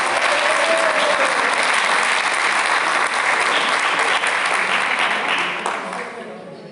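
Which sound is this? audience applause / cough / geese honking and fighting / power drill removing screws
audience applause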